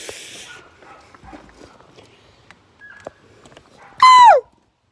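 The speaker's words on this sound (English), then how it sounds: "We got dogs in the audience yelping out." A dog in the audience at a nature drum performance lets out one loud, high yelp that slides downward near the end, after a stretch of quieter scattered knocks and rustling.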